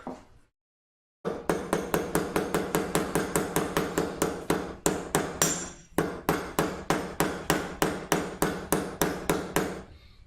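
Rapid, steady hammer blows ring out on a metal edge laid over a makeshift anvil, dozens of close, loud metallic strikes in a fast even rhythm after a brief silence, with a short pause midway.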